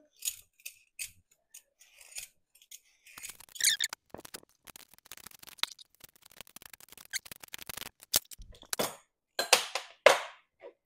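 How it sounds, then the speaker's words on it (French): A vegetable peeler scrapes the skin off a papaya in a series of short, crisp, irregular strokes, quiet and close, with brief pauses between passes. "Je vais éplucher ma papaye avec un économe."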